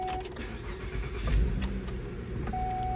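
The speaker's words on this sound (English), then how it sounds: "Now we are going to start the vehicle and unplug the MAF sensor while the car is running" A car engine cranks and catches, then settles into a steady low idle close by, with a faint electronic tone at the start and end and no talking.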